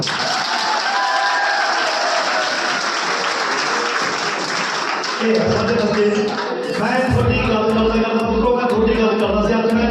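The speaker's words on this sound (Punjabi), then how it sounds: "ਤਾੜੀ ਮਾਰੋ" An audience claps at a film cast event at an educational institute, a loud sustained round of applause that turns into rhythmic group clapping with voices and music over it near the end.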